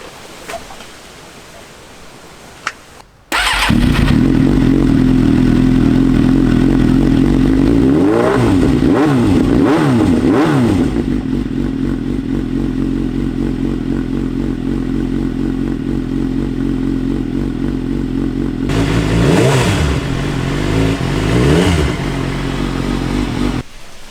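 A Suzuki GSX-R 750 K5 sport bike engine starts after a quiet moment, then idles loud and close with several sharp throttle blips and revs in two bursts.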